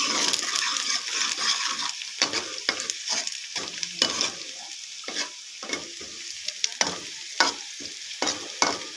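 Green chillies and onions, with cumin seeds, deep-frying in hot oil, a steady close sizzle broken by frequent sharp clicks and scrapes of a spoon stirring the pan, with no talk.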